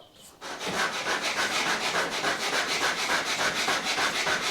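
A large paintbrush working cheap white primer onto a car's bodywork in rapid, rhythmic back-and-forth scrubbing strokes, close and loud, steady throughout after a brief quiet start, with no talking.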